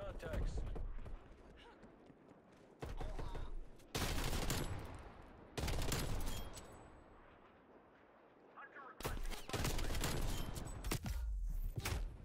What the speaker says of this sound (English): you got me again with your artillery